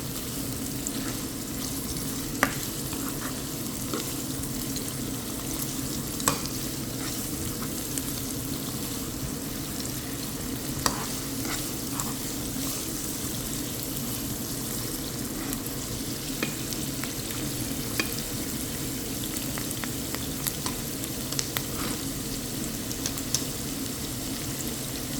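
Onions frying with curry leaves and green chilies for ulli theeyal, stirred in a pan, give a steady close sizzle with intermittent sharp scrapes and clicks from the stirring spoon, continuous for the whole stretch with no talking.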